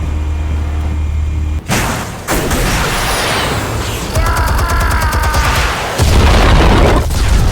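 Explosives detonate in a game or action scene, with heavy booming blasts and crackling bursts that fill the clip loudly, separated by brief dips and followed by a rumbling, debris-laden roar.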